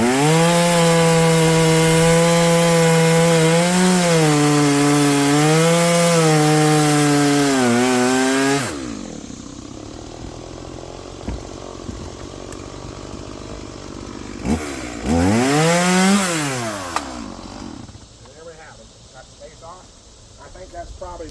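A chainsaw revs loudly while cutting down a weed tree, its engine whine rising and falling through a long cut, then dropping to idle before another brief high-revving burst.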